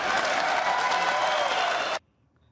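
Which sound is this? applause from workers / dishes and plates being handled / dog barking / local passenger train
applause from workers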